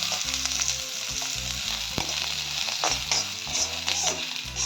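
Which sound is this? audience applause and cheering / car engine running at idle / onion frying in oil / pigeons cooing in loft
onion frying in oil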